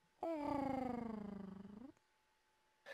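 A cat purrs loudly and close up for under two seconds, a steady pulsing rumble with rich harmonics, then stops, followed by near silence and a brief faint sound at the end.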